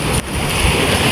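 Loud rushing surf and strong waves close by at sea on a squid fishing trip, mixed with wind buffeting the microphone, a brief dip near the start.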